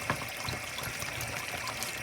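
Water pours steadily into a simmering crab curry, a continuous soft liquid rush heard close and alone without any voices.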